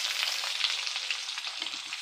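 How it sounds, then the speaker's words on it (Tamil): Steady, dense sizzling of chopped onions frying in a hot pan until golden, a continuous crackle with small pops throughout, close up and fairly loud, no voices. "இப்போது நம்ம நறுக்கி வச்ச வெங்காயத்தையும் அதில் போட்டுக்கலாம்"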